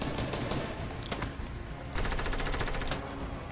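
Rapid bursts of SCAR assault rifle fire in the Fortnite video game, sharp repeated shots in quick rhythm with a brief pause, then a longer fast volley, loud and without talk.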